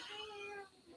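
A person imitates a cat's meow, voicing one drawn-out, slightly falling mew that is close and clear.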